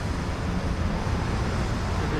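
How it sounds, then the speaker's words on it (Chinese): Busy Bangkok street traffic thick with motorcycles and taxis, heard as a dense, steady roadside roar that stays even and close throughout. "这边确实街上还挺吵的， 因为很多的摩托车，"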